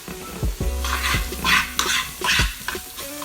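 Sliced onions tossed into a hot frying pan for a budget homemade steak sizzle loudly while a utensil stirs and scrapes them in several bursts, with a few clanks against the pan.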